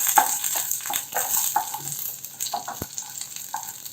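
Cumin seeds hit hot oil with curry leaves for spicy kuzhi paniyaram, giving close, crackling, spattering sizzles with irregular pops and a sharp tap near the end, and no voices.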